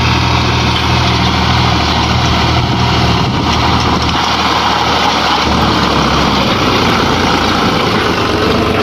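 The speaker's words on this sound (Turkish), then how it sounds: "Traktör geliyor." A heavy tractor engine idles and rumbles steadily throughout, loud and close, with no other sounds breaking through.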